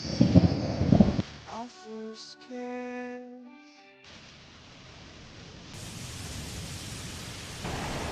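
A thunderstorm with steady rain hissing loudly at the start, a short tonal interlude, then a softer continuous wash of rainfall that swells again toward the end.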